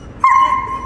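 A German shepherd on a leash gives one sharp, close, loud bark-like yelp that trails into a short whine, with no talk over it.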